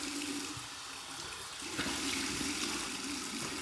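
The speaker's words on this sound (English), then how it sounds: "Final rinse from the tap." Water runs from a tap for a final rinse after a cold-water shave, a steady splashing rush that grows slightly louder partway through, with no voices.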